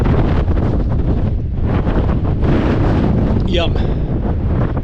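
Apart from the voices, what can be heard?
strong wind buffeting a tent in the Peak District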